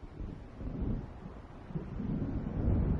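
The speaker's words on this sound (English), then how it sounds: "That thunder, it actually sounded super real on my headphones." Low, rolling thunder of an approaching storm in the game Alan Wake Remastered, a steady rumble mixed with wind and sea, swelling louder toward the end with no talk.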